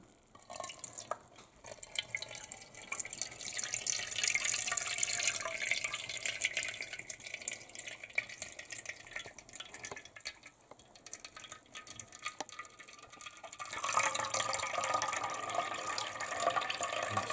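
Water drains and drips from spontaneous cheese curds, making a continuous trickle with scattered drips that grows fuller in the middle, eases off, and then swells again toward the end.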